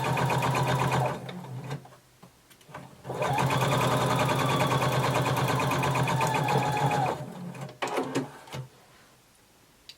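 A sewing machine stitches a garment shoulder seam in two bursts of rapid, even mechanical whirring, close and clear, with a short pause between them and quieter handling sounds after.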